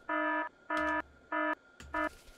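An electronic alarm in the game Factorio sounds as four evenly spaced, harsh buzzing beeps, each about a third of a second long, with faint clicks between.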